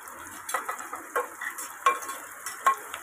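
Tomatoes tipped into reddened, frying onions for a Maharashtrian prawn curry, giving a steady sizzle with several sharp scrapes and clinks of a spoon stirring against the pan, close and fairly loud with no talking.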